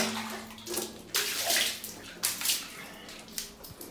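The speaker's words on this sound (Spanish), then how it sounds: "vamos a empezar a rociar agua así alrededor" Water sprays and splashes against the concrete walls of a cistern to wash off mud, coming in irregular bursts of hissing spatter with brief pauses between them, close and fairly loud.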